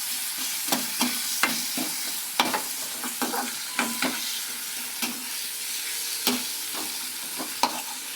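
Tomatoes with ginger and garlic sauté in a pan for a potato and pea stir-fry, a steady sizzle broken by regular scraping strokes of a spatula, close and clear, with no voices.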